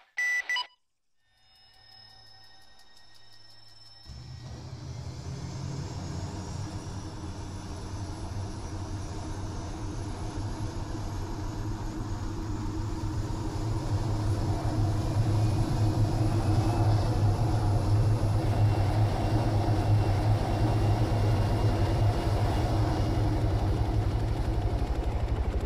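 Two UH-60M Blackhawk helicopters spool up in the ArmA III game, a high electronic tone and beeps giving way to a rising turbine whine and a growing rotor rumble that keeps building, with no talk.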